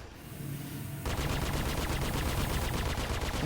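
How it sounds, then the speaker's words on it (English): Sustained rapid gunfire in the video game Star Citizen, a dense rattling barrage that starts softer and swells after a second, continuing without a break. "I can just hear that firefight going on outside"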